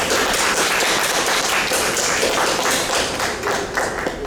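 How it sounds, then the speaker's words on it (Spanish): Loud, sustained applause from a literary congress audience sending off three authors after their book presentation, dense steady clapping filling the whole stretch. "Los despedimos con un fuerte aplauso, por favor."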